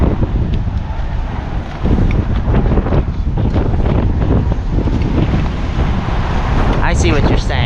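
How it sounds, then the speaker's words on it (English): Strong gusty wind buffets an awning and microphone with heavy, continuous rumbling roar, loud and close, with brief flapping bursts near the end. "It's just such strong wind."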